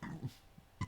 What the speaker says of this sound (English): Bad burp.